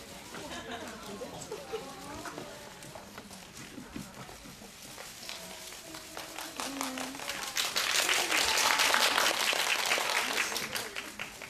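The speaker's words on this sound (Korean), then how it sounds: "부러움의 박수" Audience applause at a Korean movie-concert fan event in a cinema hall, scattered clapping that swells into a fuller, louder round toward the end, with a host talking over the first half.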